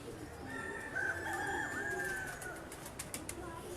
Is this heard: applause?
no